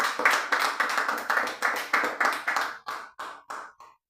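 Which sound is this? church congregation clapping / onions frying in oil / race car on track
church congregation clapping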